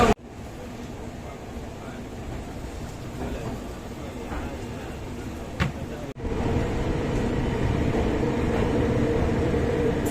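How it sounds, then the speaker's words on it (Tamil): The MGR Chennai Central weekly SF Express pulls out of Yesvantpur at night, a steady low rumble of rolling coaches with a brief knock near the middle and a sharp jolt before the noise swells louder. "நம்ம ட்ரெயின் பார்த்தீங்கன்னா ஷார்ப்பாக 10:45க்கு யஷ்வந்த்பூர்லேருந்து கிளம்பிடுச்சு"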